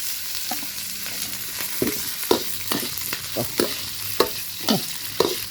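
Vegetable oil sizzles in a hot pan, with a steady crackle broken by repeated scraping stirs of a utensil at a close, moderate level.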